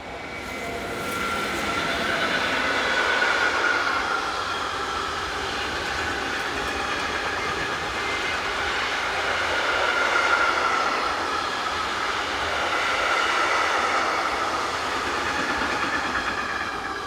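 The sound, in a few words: class 189 locomotive 189205 passing with a train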